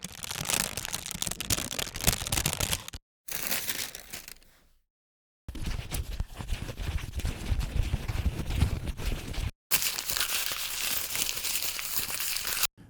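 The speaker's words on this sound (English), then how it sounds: "And we also got a bunch of paper and plastic movement." Paper and plastic handled as sound design source, dense continuous crinkling and crumpling in several takes separated by brief gaps of silence, close and busy.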